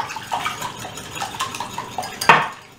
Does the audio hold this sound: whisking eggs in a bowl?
yes